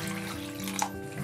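Clean water running from a tap into a bowl of cleaned hawthorn berries for washing, a steady close splashing stream with a brief brighter splash midway.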